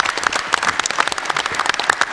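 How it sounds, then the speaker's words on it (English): An audience at a 2018 Chilliwack city council candidates' debate applauds, a steady patter of many hands clapping throughout. "So let's give them a round of applause."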